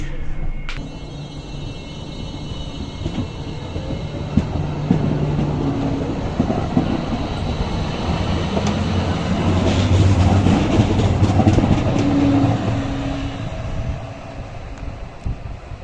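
Trains at a large German station, including a high-speed train, a continuous loud rumble of rolling stock and rail noise with rattling, brief squealing tones and a sharp bang near the start.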